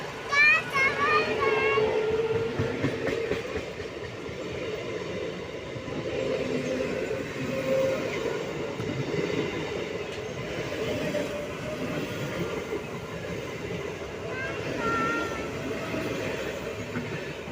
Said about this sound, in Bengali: ট্রেন পুরো দেখ কত স্পিডে আসছে।